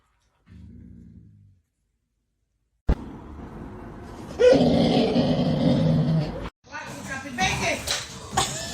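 Two dogs growl and yip during play, a short low growl first, then after a pause a longer stretch of rough growling and snarling close to the microphone.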